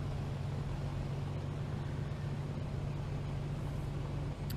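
A2A Comanche 250 piston engine idling as it warms up in a flight simulator, one cylinder running slightly rough; a steady, continuous low drone with a constant hum, close and unbroken, no voices.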